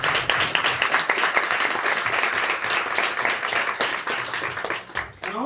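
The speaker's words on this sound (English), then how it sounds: "Go ahead, just give them a round of applause" Audience applause at an event celebrating HBCU students, a dense steady wash of many hands clapping that continues throughout before tapering briefly near the end.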